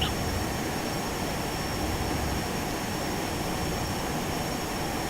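Boeing 737-200 jet engines in the X-Plane 11 flight simulator on approach, a steady, loud broadband roar with a faint high whine, continuous and unchanging throughout.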